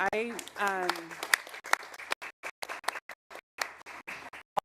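Scattered handclaps from a council meeting audience follow a man's brief speech, arriving as sparse, uneven bursts separated by near silence.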